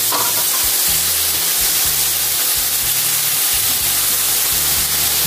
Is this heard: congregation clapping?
no